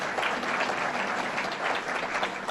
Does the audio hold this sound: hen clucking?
no